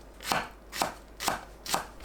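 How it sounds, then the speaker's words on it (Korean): A knife chops through green onion on a cutting board in four evenly spaced, crisp strokes, each a short thud-and-slice at a steady rhythm, close and clear with no talking. "파를 어슷 썰어주세요."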